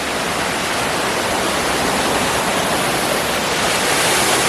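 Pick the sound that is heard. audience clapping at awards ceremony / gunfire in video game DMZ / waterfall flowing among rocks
waterfall flowing among rocks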